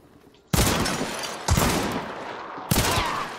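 Three loud bursts of video game gunfire hit sharply at even intervals, each a dense crackling volley that rings on until the next, with a quieter lull before the first.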